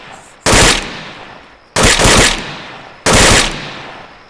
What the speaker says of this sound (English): Machine gun adjusting.